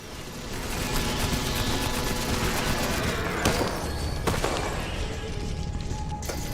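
Continuous sniper and minigun fire in the Space Raiders in Space video game, a steady roaring barrage of rapid shots with a few sharper cracks standing out.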